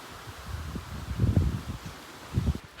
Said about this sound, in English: And the wind's picking up too.